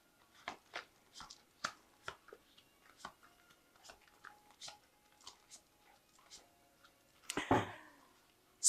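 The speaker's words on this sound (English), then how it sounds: "So I have shuffled this deck." Quiet riffling and snapping of a tarot deck being shuffled, a string of short crisp bursts spread across the clip, ending with a louder rustling flurry.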